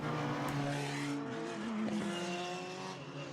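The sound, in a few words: Formula BOSS race cars accelerating back up to speed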